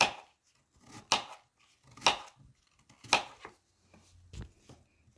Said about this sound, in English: I'm just going to slice these cucumbers.